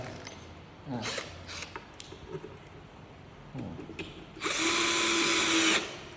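A Dewalt electric drill backs out a screw. A few light clicks and handling knocks come first, then a loud, steady motor whine runs close up for over a second before cutting off.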